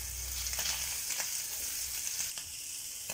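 Half-cooked chicken sizzles and fries with sliced onions in a pan, making a steady, close hiss with soft scraping accents throughout and no voices.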